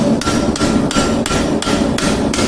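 Hot, reddish metal struck with a hammer over a centre-drilled piece, giving regular loud ringing blows about every third of a second, close and with no talk.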